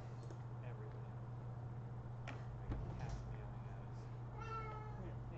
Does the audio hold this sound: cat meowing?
yes